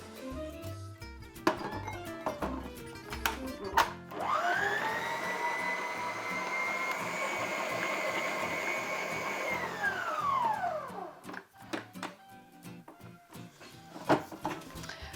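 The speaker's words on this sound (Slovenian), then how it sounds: "Potem pa dobro pustimo, da nam stroj pregnete testo." Stand mixer kneading gluten-free doughnut dough, a steady loud motor whine holding for several seconds before winding down, with clattering kitchen sounds before and after.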